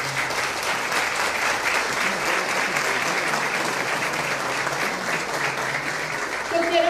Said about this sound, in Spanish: el aplauso fuerte es para ustedes, porque bien merecido se lo tienen